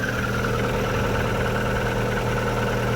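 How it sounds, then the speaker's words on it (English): An MG ZS car engine idles with a steady, loud, even hum and a low rumble that holds unchanged throughout, with no start visible. "Start it up, make sure there's no leaks."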